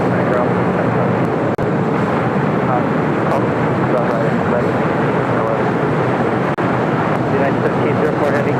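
An Emirates Airbus A380 airliner arriving on the north side of busy LAX, heard as a loud, continuous broadband jet roar that holds steady for the whole stretch.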